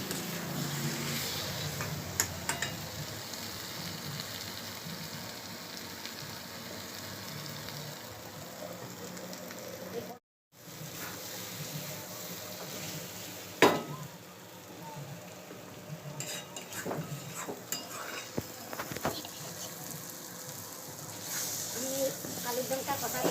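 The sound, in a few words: potatoes being sautéed in a pan for aloo dum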